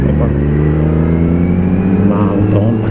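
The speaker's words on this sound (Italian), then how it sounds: "Andiamo a cantare il 4 cilindri nei boschi di Sauris." A four-cylinder motorcycle on a mountain road through woods near Sauris, heard close and loud as its engine revs and pulls under acceleration in a steady rising drone, with a brief voice over it.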